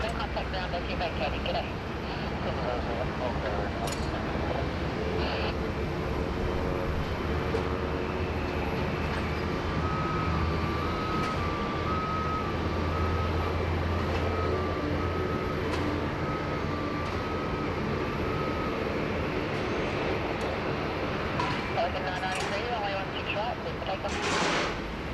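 A British Airways airliner taxis and departs from runway 16 right at Sydney Airport, a loud, continuous jet engine roar and rumble that holds steady throughout, with a voice talking over it.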